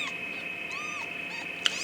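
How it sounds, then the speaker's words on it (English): A newborn orphan foster kitten of about 86 grams gives several thin, high, faint mews close by, short rising-and-falling cries spaced across a quiet background with one sharp little peak near the end. "I'll show you my healthy kitten here."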